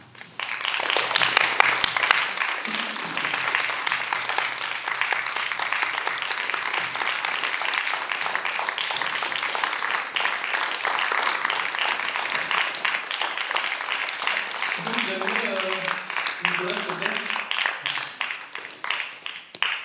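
A theatre audience of high-school students applauds after a staged reading, steady dense clapping running throughout, with a few voices briefly audible near the end.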